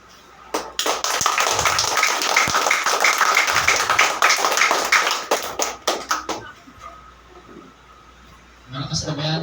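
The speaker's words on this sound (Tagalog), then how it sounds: "Yung palakpak na hindi masasabing palakpak na para sa tao." A church congregation claps in a sustained burst of many hands that thins into scattered claps and fades, followed by a voice talking briefly at the end.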